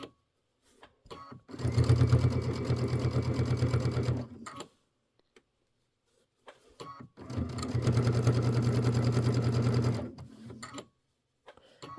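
A PQ 1500 sewing machine stitching quilt binding on a Christmas wall-hanging quilt runs in two loud, close, steady bursts of about three seconds each, separated by near silence, with no voices.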